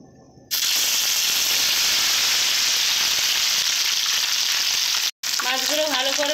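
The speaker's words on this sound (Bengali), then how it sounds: "মাছগুলো ভালো করে ভেজে নেব, লাল লাল করে ভেজে নেব এইভাবে।" Spice-coated puti fish frying in a pan, a loud steady hiss that starts abruptly and holds, briefly cutting out before resuming under a faint tonal sound near the end.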